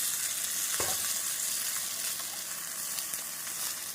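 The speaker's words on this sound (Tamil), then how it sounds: "நம் சுண்டைக்காயை நன்றாக மிதமான தீயில் ஒரு ஐந்து நிமிடம் வேக வைத்து விடலாம்" Soaked turkey berries fry with onions in a pan over medium heat, giving a continuous, even sizzle close by with one brief clink partway through.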